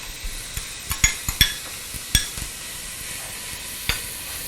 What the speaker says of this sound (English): I will just saute this briefly.